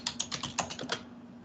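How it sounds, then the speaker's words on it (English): Typing on a computer keyboard, a quick run of about seven close, crisp key clicks that fade into quiet after about a second. "I'm typing in something."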